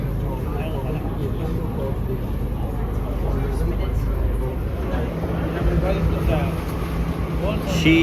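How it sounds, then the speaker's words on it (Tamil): Cruise boat reversing on the way out of Tobermory, heard as a steady low engine rumble with wind noise over it. "போட்டை ரிவர்ஸ் எடுத்திருக்காங்க"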